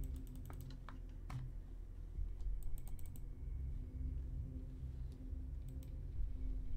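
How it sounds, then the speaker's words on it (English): A computer mouse button is clicked rapidly and repeatedly, sharp faint ticks in irregular quick bursts over a steady background hum. "If you can't hear my mouse button, I'm furiously clicking."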